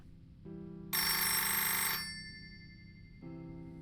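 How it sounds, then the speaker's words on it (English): A telephone rings in the visual novel game My Dark Eden: an electronic ringtone with a short low tone, a bright loud trill lasting about a second, then another low tone, clean and alone. "But the ringing of the telephone interrupted Rivka."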